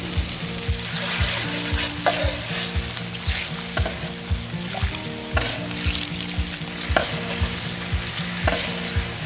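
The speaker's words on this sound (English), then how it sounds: "I'll bring that to a simmer, let that bubble for a little bit till it thickens" Peking-style pork rib sauce with garlic bubbling and sizzling in a hot wok, a steady crackling fry with periodic clanks and scrapes of stirring, close and loud with no talking.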